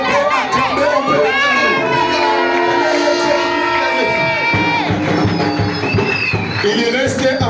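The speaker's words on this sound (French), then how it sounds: "Est-ce qu'on peut acclamer un peu?" A church congregation at a leaders' consecration service cheers and acclaims loudly, a dense crowd of shouting and high-pitched voices sustained throughout, close and energetic.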